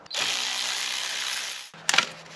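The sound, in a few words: ratchet unbolting a 10 mm bolt on Subaru engine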